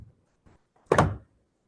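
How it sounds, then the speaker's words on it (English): A door sound effect in an old-time radio drama: two soft knocks or clicks, then one louder thud as the door swings open, all close and without talk. "Open the door for them."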